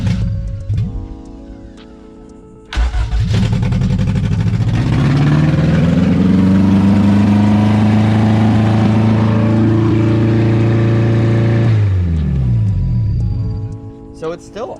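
A Toyota MR2 engine cranks and fires, its pitch climbing as it settles into an unusually high, steady idle that holds loud and close for several seconds before cutting off near the end.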